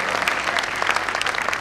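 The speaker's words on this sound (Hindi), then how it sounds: "अगर आपको आकर अच्छा लगा तो एक बार ताली बजाकर हमारे कार्यकर्ताओं का उत्साह बढ़ा दें" An audience at a Bharatiya Jain Milan annual convention claps together in a dense, sustained round of applause, loud and close, with no voices rising above it.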